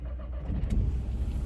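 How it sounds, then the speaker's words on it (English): A car engine turning over and catching inside the vehicle, a low rumbling start that settles into a steady idle hum, heard from the driver's seat with no talking. "put the engine on"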